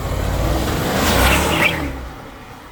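A BMW 750i converted from all-wheel to rear-wheel drive attempting a burnout, engine roaring loud and close, swelling to a peak with a brief squeal before the sound drops away toward the end.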